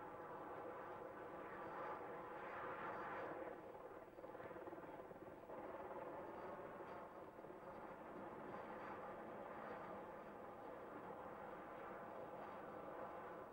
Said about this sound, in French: Tel un insecte, l'hélicoptère petit à petit s'élève.